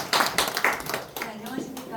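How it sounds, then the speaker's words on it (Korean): Applause at a community forum on local economic alternatives, a few loud nearby claps in uneven bursts that thin out and fade as a voice starts speaking. "박수 부탁드리겠습니다."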